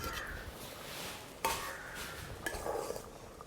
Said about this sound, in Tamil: இப்போ நாங்கள் மூடியை திறந்துடுவோம்.